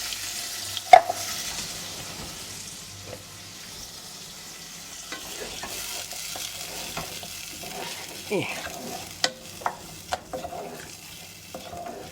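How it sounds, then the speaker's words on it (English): Tomato-basil cream soup bubbling and simmering in a pot, a soft steady cooking sizzle broken by occasional stirring and light clinks of utensil against the pot, with no talk. "So that is going to bubble away"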